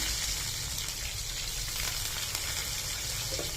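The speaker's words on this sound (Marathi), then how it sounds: "आता टाकू आपण त्याच्यात थोडी मिरची" Chili tipped into garlic already frying red in hot oil for a tempering, with a loud, dense, continuous sizzle that fills the whole clip at close range.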